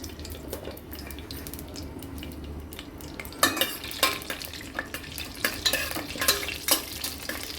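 Tempering seeds fry in oil with a soft hiss, followed by a burst of crackling pops and sputters that grow busier toward the end.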